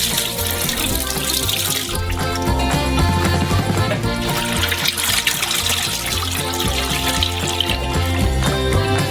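Milk, 3.4 liters for a giant castella, pours steadily into a huge saucepan with a continuous liquid rush, partly masked by loud background music.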